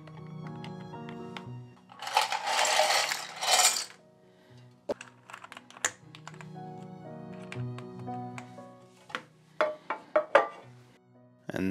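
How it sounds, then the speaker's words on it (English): Lubricated switches being pressed into a mechanical keyboard one after another, giving sharp plastic clicks and snaps in irregular bursts, with a denser scraping rattle early on, close and fairly quiet. "Let's start inserting our switches."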